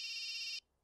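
A phone's electronic ringtone trills loudly for just over half a second in a scene from the Telugu film Asadhyudu, then cuts off abruptly into near silence.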